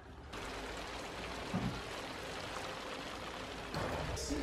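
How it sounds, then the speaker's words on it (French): Steady rain falls outdoors on a July day, an even wash of patter and drips that runs throughout at low level, with a few faint bumps of nearby movement. "mais en fait, il pleut."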